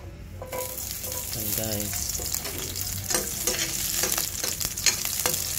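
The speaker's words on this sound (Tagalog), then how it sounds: "Tayo ay magigisa ng bawang" Garlic sautés and sizzles in a hot pan while a spoon stirs and scrapes it steadily, with brief talk over the frying.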